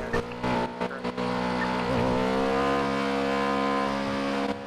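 A loud, droning car engine in GTA roleplay, a Dominator, holds a steady high revving tone, briefly shifting pitch, with a few short sounds cutting in early.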